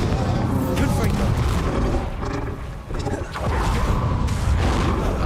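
Bombarda and Confringo spell explosions go off in Hogwarts Legacy, dense, loud booms and roaring blasts that follow each other with almost no gap, easing briefly near the middle before surging again.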